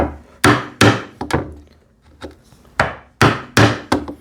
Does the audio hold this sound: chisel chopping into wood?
yes